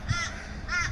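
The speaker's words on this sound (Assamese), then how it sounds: "বিভিন্ন চৰাই চিৰিকটি আছে" A crow caws twice in the morning in Australia, each call loud and close, separated by a short gap, with no voices present.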